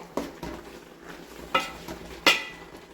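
A spoon stirs chicken curry in a pot, making a few quiet, close scrapes and clinks spaced about half a second to a second apart over a low background hum.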